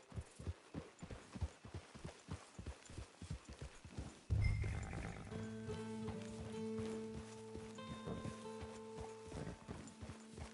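Horse hooves clip-clop steadily in Red Dead Redemption 2, then a loud thump gives way to a sustained droning hum with tonal game music layered over it; no clear whinny stands out.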